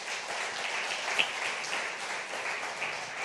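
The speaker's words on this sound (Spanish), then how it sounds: "Dele otro aplauso al Señor, se merece" Church congregation at a Spanish-language service in London claps for the Lord, a steady moderate wash of applause sustained throughout without speech.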